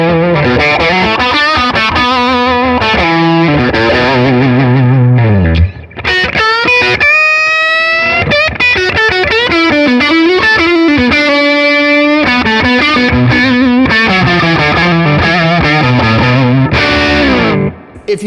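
A Fender American Professional Stratocaster in HSS form, using its humbucking pickup, plays loud distorted chords and riffs with effects, sustained and dense. There is a brief dip near the middle and a cutoff near the end.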